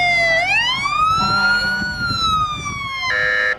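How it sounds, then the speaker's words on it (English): A rescue vehicle's siren wails at a daytime town parade in Rineyville, a loud, close rising and falling tone that switches to a different pattern near the end, over a rumbling engine and faint crowd noise. "this is a rescue vehicle that we're seeing right now"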